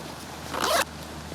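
A zipper on a pocket of a Vanquest Mobius sling bag is pulled in one quick, close rasping stroke lasting under half a second, then stops.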